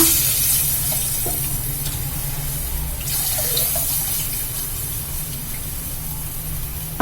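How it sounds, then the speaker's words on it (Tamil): Tamarind water pours steadily into a hot pan for South Indian kuzhambu, a continuous rushing splash with a faint sizzle underneath, close by and uninterrupted. "இப்போ இந்த புளி தண்ணியை ஊற்றிடலாம்ப்பா."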